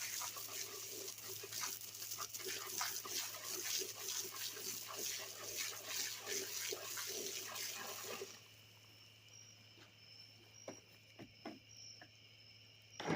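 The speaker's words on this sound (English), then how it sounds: "Go ahead and take your water hose. It's nice and clean in there, but just spray it down with some good," A water hose sprays steadily while rinsing down a goat carcass during processing, a continuous hiss of water that stops partway through, leaving faint trickles and insect chirps.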